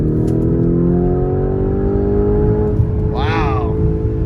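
A Lamborghini Urus SUV at full throttle, its engine note climbing steadily and holding a gear, loud and continuous, with a voice briefly speaking over it near the end.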